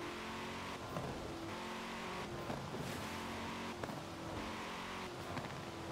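Car in Forza Horizon 4, set up with one horsepower per kilo, revving and accelerating through repeated gear shifts, the engine pitch rising and dropping in a steady rhythm, fairly quiet and steady without speech.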